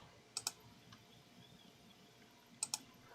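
Two quick pairs of soft mouse or keyboard clicks while adjusting camera slider software, faint and close, separated by a quiet pause, with no voices.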